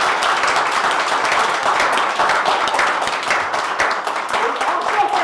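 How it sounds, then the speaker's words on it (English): Audience applause and clapping at a county fair organizers' gathering, a dense steady wash of many hands lasting throughout, fairly loud with some voices mixed in. "I'd like you to give them a huge round of applause"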